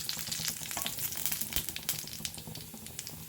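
Dry red chilies frying in hot oil for okra chutney: a dense, close, crackling sizzle with rapid pops that continues throughout, with no voices.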